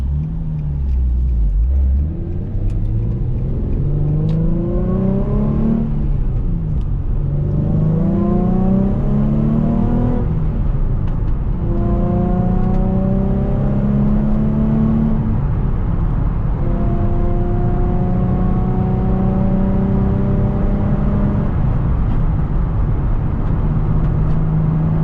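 A Nissan 350Z Nismo on Kumo tires pulls hard through repeated top-speed runs, loud and close, its engine note climbing in long rising sweeps, dropping at each gear change and climbing again with no talk over it.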